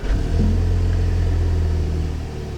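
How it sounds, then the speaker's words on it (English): An Audi TT engine cranks and catches, then settles into a steady, loud low idle with a constant hum close by, no voices. "if we start the car"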